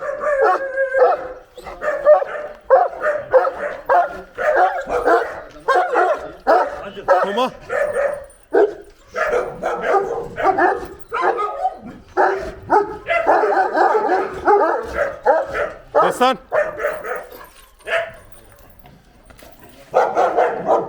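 An 11-month-old Anatolian Shepherd puppy barks and yips excitedly in rapid, continuous bursts close by, with whimpering mixed in and brief pauses.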